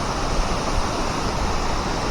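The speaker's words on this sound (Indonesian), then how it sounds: "Tuh air terjun kedua." A waterfall at Coban Watu Ondo on the Batu–Mojokerto route pours in a steady, loud, dense roar of rushing water with no pauses and no voices.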